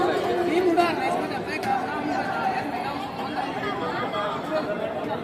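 Dense crowd chatter inside the inner sanctum of Mahakal temple in Ujjain, a steady wash of many overlapping voices close around, continuous and fairly loud throughout.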